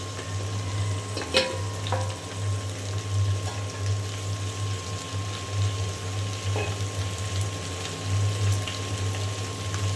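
Okra fries in a pan over already fried onions, a soft, steady sizzle heard close up. A constant low electrical hum runs underneath, with a few faint clicks from the pan.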